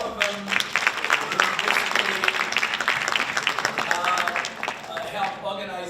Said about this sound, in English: I want to also ask you to give a big round of applause to my staff.